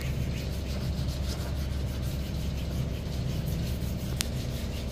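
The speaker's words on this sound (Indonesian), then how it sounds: "Kita amplas layang dengan air dan kita amplas secara merata." Steady rhythmic rubbing of 800-grit sandpaper wet-sanding a painted surface with water, a close, continuous scratchy swish with no voices.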